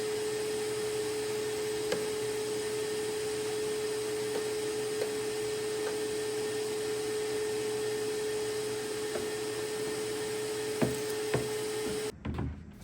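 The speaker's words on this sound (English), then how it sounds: "I'm going to start with a really good vacuum with my shop vac" A shop vac runs steadily on a burlwood dresser, a constant droning hum with a fixed tone and faint scattered clicks of the nozzle, then cutting off abruptly near the end.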